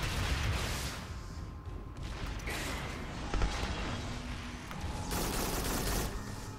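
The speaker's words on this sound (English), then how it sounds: "I hit him with 5 rockets, are you kidding me?" Rockets hitting a giant robot in the video game Farpoint, dense overlapping explosive bursts and mechanical clanks roaring continuously at steady loudness, with no speech.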